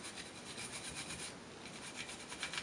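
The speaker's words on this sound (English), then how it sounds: "the brass brush bristles are kind of getting in all the areas" A brass-bristled brush scrubs the metal surfaces of an EAA Windicator .357 Magnum revolver during cleaning, giving a steady close-up raspy rubbing that keeps going without pause.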